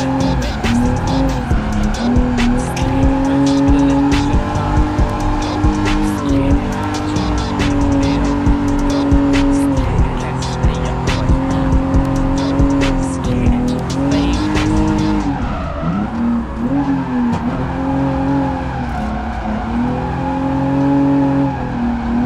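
A street-league drift car driven by Lukas in Norway, its engine roaring steadily while the tires squeal and skid loudly through long slides, close and continuous with brief shifts in pitch as the throttle changes.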